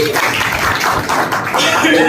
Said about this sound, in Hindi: ऐसी कंपनी के लिए जोरदार ताली होनी चाहिए